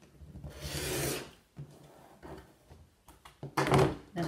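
Quilt fabric is trimmed along its edge with soft rubbing, cutting strokes and a few light knocks, fairly quiet and close, in uneven bursts.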